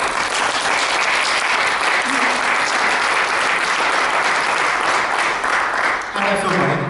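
A live audience at a therapy talk and demonstration breaks into sustained, dense applause, steady and loud throughout, with a brief dip near the end and faint voices mixed into the crowd.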